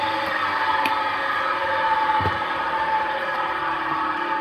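Three-phase electric motor running quietly with sound bearings, a steady close mechanical hum and whir with a brief faint knock partway through, no speech.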